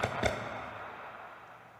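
Minecraft Warped Forest ambient game sound from the Nether: a short, hollow, airy swell with a soft knock near the start, fading away over under two seconds.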